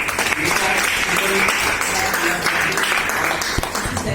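An audience applauds a company director at a speech event, with steady, loud clapping that runs the whole time while someone talks over it.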